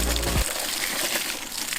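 Water gushes strongly from a siphon pipe draining a full drum: an initial low thump, then a steady, loud rushing hiss that holds without a break.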